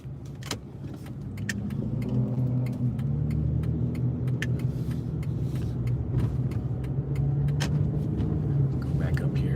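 A truck approaches on a Houston street, its engine a continuous low rumble that swells slightly as it nears, with someone talking quietly over it throughout.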